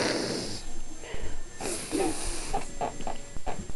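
A puppy snorts and blows air through its nose, giving wheezy, hissing bursts close by with a shuffling, muffled background throughout.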